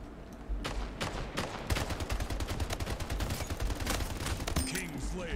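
Gunfire in a video game shooter, a dense run of rapid shots and bursts, loud and close, with a player talking over it.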